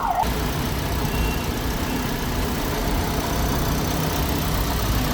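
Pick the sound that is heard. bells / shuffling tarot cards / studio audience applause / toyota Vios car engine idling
toyota Vios car engine idling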